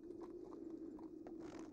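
A horse's hooves clip-clop faintly and unevenly as the animal is led along, a soft irregular clopping over a low steady hum.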